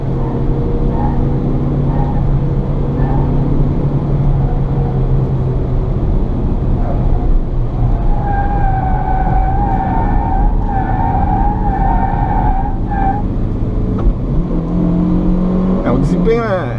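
A 2017 Fiat Mobi corners on a test drive with a steady engine and road drone, a faint tire whine rising partway through, as a person talks over it.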